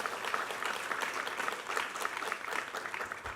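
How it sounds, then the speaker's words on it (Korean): Church congregation applauding during a Sunday worship service, a steady, dense wash of many hands clapping at moderate distance, filling the whole moment without speech. "우리 하나님께 감사와 영광의 박수 올려드리겠습니다."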